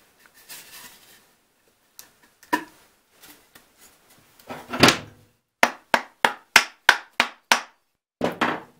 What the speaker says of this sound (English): Probably the first few times I'm gonna have to hit it to get it a bit in.